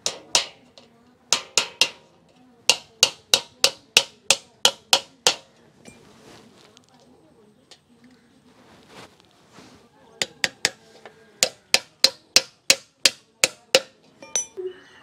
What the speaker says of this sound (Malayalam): അപ്പോൾ ഇത് നമുക്കൊന്ന് ആണി അടിച്ച് വെക്കാം